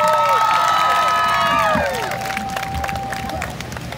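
A crowd at an outdoor Pride event in Yarmouth cheers loudly with whoops and whistles, then the noise settles into a steady, softer roar of applause and chatter.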